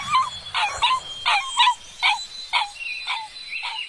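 A wounded white dog whimpers away as a story sound effect, giving a string of about eight short, evenly spaced high yelps and whines against a faint chirping background.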